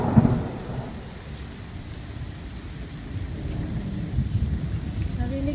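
Thunder rumbles low under steady rainfall outdoors in a Florida garden, a deep rolling swell that builds toward the end over the constant wash of rain.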